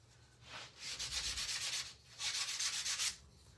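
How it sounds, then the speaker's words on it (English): A 120-grit sandpaper block rubs across a wooden farmhouse coaster in two long, even strokes, a soft, close scratchy hiss with a brief pause between them. "I'm going to use my 120 grit sandpaper block."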